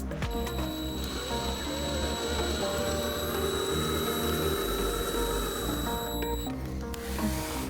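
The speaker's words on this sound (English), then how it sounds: "I'm gonna put my first screw in here." A screw being driven into a carbon rear trim piece on a BMW: a steady, continuous whirring and grinding of a power driver that holds even in loudness throughout, close by with a faint high tone above it.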